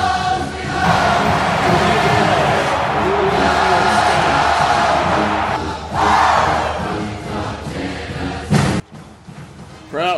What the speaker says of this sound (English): Crowd's too loud, you couldn't even hear the ref